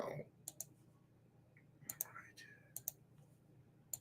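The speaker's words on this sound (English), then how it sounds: "that should be all the clicking for now" Sharp mouse or button clicks come in small clusters, a double click near the start and several more scattered across the clip, close and fairly crisp over a faint background hum.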